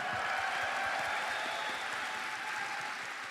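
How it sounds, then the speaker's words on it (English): A Tennocon audience claps in sustained, dense applause that carries steadily before easing slightly toward the end. "please, one more round of applause for the amazing sound team here and all the sound team at DE"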